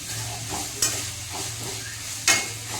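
Grated radish stir-fries in a pan with a steady sizzle, punctuated by two distinct spatula scrapes and clatters, close and moderately loud, with no voices.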